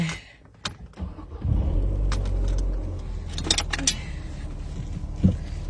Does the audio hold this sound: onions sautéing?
no